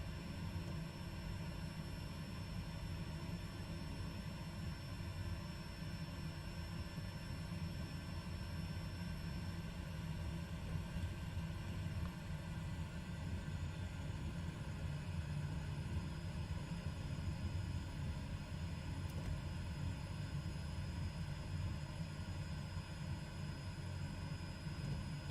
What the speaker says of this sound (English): Taking the new Milviz PC6 out, stretch its legs.